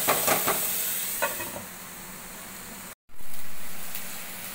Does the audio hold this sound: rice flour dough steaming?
yes